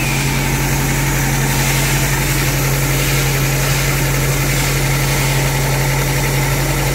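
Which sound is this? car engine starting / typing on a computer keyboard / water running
car engine starting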